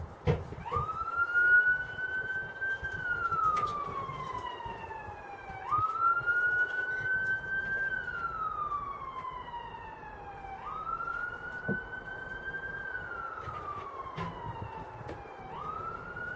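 A siren wails in long rising and falling sweeps near an allotment garden, repeating about every five seconds over a steady low background rumble, with no talking.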